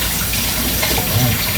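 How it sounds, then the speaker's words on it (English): Kitchen tap water runs steadily into a sink while a cooking utensil is rinsed during lasagna soup preparation; a continuous close splashing rush with no talk. "Rinse this off."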